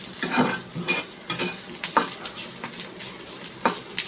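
Prawns seasoned with salt and turmeric frying in a pan for a hand-mashed Bengali prawn bharta, with a soft sizzle under repeated sharp scrapes and clinks of a spatula stirring against the pan, close and fairly quiet.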